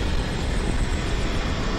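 A helicopter in a Skibidi Toilet animation gives off a steady, dense mechanical drone that fills the brief moment without a break.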